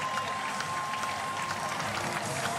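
A crowd cheering and applauding at the finish of a speed skating race, a dense, continuous roar of clapping and voices, loud and steady throughout.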